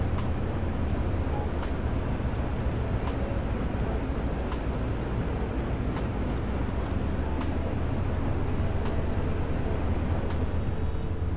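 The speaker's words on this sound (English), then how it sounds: "So this is a diesel electric train." A diesel electric locomotive runs in Train Sim World 6 with a constant heavy engine drone. Evenly spaced rail clacks repeat over roughly eleven seconds, and no clear speech is heard.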